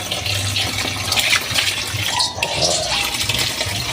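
Water gushes and splashes while salted cabbage is rinsed for kimchi, a loud, continuous rush with uneven sloshing surges at close range.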